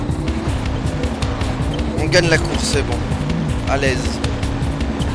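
A race car in the video game Jak 3 drives with a steady, droning engine note and short bursts of tire squeal, loud and close, while a voice talks over it.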